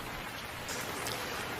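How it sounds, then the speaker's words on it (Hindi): Steady, dense hiss of heavy rain pouring down in a Hindi cartoon, a continuous wash of close, evenly loud patter with no voices. "बाहर बहुत तेज़ बारिश हो रही है।"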